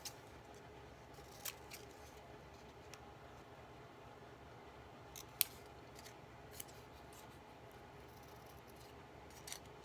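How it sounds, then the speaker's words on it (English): Scissors snipping through paper in a quiet room, a handful of sharp, isolated clicks spaced irregularly across several seconds, close and faint, with no talking. "I think I'll cut this other end"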